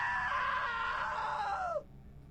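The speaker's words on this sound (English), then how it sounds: "Now that was a great scream." A long, high, strained scream from a character in the video game What Remains of Edith Finch, held steady, then sliding down and cut off abruptly.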